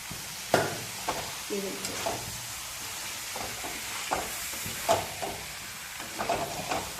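Dum aloo potato curry being stirred in a pan, with intermittent scraping strokes and a soft sizzle underneath, while a voice speaks briefly.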